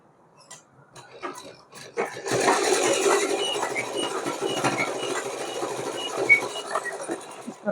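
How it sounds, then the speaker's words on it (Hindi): A sewing machine stitches a small cotton summer dress for a Laddu Gopal deity figure. After a few soft handling clicks, a steady, close mechanical whir runs continuously to the end. "और इसको यहाँ पर पकड़ते हुए इस तरीके से सिलाई लगा देंगे पूरे में।"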